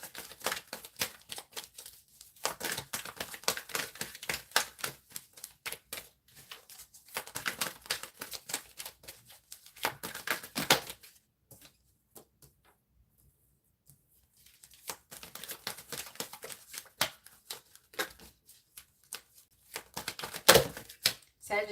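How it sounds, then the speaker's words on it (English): Tarot cards are shuffled close up in repeated bursts of quick papery riffling and patter, with a long quiet gap midway and a sharper snap near the end. "Let me shuffle adequately."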